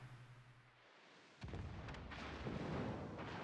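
Moskva cruiser firing armor-piercing shells in World of Warships: a quiet hum breaks into a loud, sustained rumble of heavy naval gunfire and booming impacts, with no talking.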